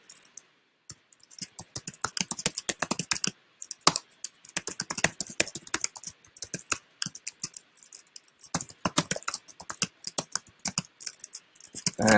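Rapid keystrokes on a computer keyboard as code is typed, close and crisp, in irregular bursts with short pauses and no talking.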